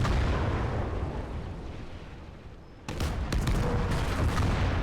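Artillery guns fire in a battle video game: a dense, continuous rumble of booms, dipping briefly, then resuming with sharper cracks and blasts layered over the roar.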